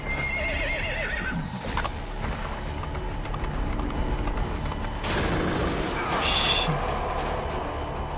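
Horse in Metal Gear Solid V: The Phantom Pain neighing and whinnying loudly over hoofbeats and a busy game soundscape, with a high whinny near the end.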